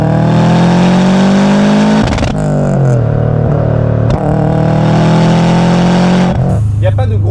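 A loud turbocharged Subaru Impreza GT Turbo engine revs hard, climbing in pitch, with abrupt gear shifts that drop the tone before it climbs again.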